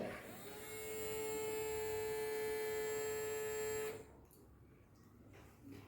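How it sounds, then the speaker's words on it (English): A water pump on a fire-fighting robot buzzes with a steady electric drone for about three and a half seconds, then cuts off, leaving faint background noise. "The sound of the buzzing is heard from the water pump."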